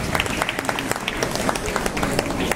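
Applause from an outdoor concert audience welcoming the mayor onto the stage: moderate clapping with distinct individual claps, heard under a speaking voice.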